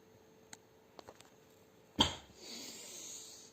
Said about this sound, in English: Don't mind the cough.